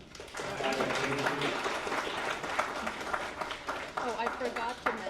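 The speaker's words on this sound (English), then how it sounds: "Round of applause for Intelligence." A crowd at a tech demo night in San Francisco gives a round of applause after a product demo. The clapping starts after a brief pause and stays moderately loud, with some voices mixed in.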